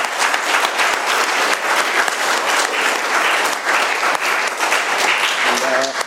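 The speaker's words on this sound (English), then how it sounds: "let's give one more round of applause to our speaker" Audience at an AA meeting in Doylestown, Pennsylvania applauds speaker David, dense sustained clapping from many hands filling the room for several seconds, tapering slightly near the end.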